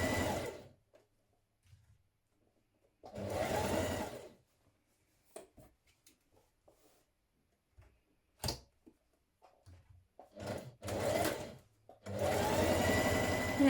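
Sewing machine stitching the shoulder and side seams of a shirt with a 1.5 cm seam allowance, running in short and longer bursts separated by quiet pauses, with small handling clicks in between.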